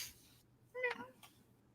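A single short, quiet meow from a cat, close by, in an otherwise faint, quiet room.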